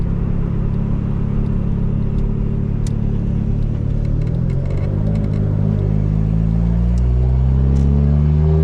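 A turbocharged Honda Civic engine pulls onto the highway, a loud, steady drone whose pitch climbs gradually as the car accelerates, with road rumble throughout and no talking.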